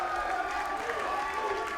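A wrestling crowd roars with cheering and applause, a dense, steady wash of noise that holds loud and unbroken from start to finish.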